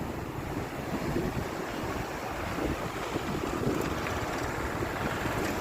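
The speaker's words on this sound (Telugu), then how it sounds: "చూడండి అలలు ఎంత శబ్దం చేస్తున్నాయో." Sea waves wash steadily onto a beach beside a coastal road, a continuous broadband roar mixed with wind buffeting the microphone, with no talking.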